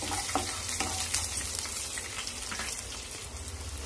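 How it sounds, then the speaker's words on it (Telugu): Mustard-type tempering seeds and crushed garlic sizzle and crackle steadily in hot oil while being stirred, a dense continuous frying hiss with small pops, fairly close, no talking. "ఈ పోపు గింజల్ని ఒక నిమిషం పాటు ఇలా కలుపుకుంటూ వేయించుకోవాలి"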